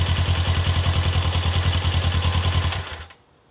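A Suzuki GS500 motorcycle engine with a replacement exhaust idles close by at about 1,400 rpm with a fast, even chugging pulse, then cuts off near the end and falls quiet.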